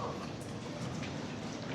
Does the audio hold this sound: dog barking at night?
no